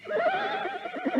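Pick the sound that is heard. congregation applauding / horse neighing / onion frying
horse neighing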